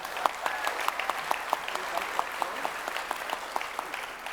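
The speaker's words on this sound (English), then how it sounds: "Would you please give her a round of applause?" Audience applause for a speaker at a clinical debate, steady overlapping clapping from a mid-sized room, moderately loud and fairly even for several seconds.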